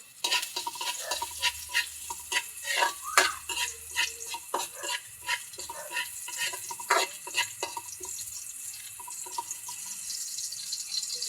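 Garlic sautéed and stirred in a pan for Filipino pork adobo, with close, bursty sizzling broken by repeated scraping stirs and faint clinks of utensil on the pan.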